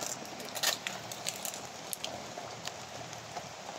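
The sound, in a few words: rain falling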